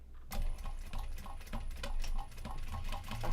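A sewing machine runs top stitching on a knot bag, a steady rapid mechanical patter with regular ticking needle strokes throughout, close and fairly loud with no talking.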